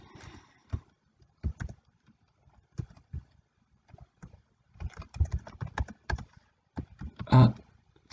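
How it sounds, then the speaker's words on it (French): Computer keyboard typing in Microsoft Word, sparse individual key clicks and space bar presses at an irregular pace, close and quiet, with a louder cluster of taps near the end and no talking. "J'appuie une fois sur espace, une seconde fois sur espace, et je peux écrire ce que je veux dedans."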